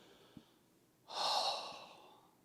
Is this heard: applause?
no